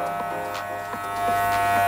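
Electric hair clippers used for fading during a head shave, giving a steady close buzzing hum with a faint rise in level toward the end, no talk over it.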